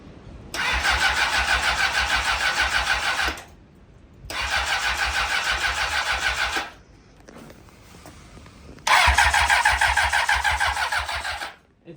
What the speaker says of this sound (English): we're only gonna start it for a little bit to see if it even starts